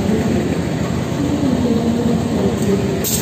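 A CC 201 diesel locomotive hauling the Tawangalun passenger train, heard from inside an economy coach close behind it as a steady, loud low rumble and drone throughout, with no voices.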